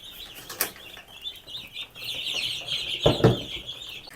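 Broiler chickens in a wooden box cluck and peep in a steady, close chatter, with a brief flutter of wings partway through.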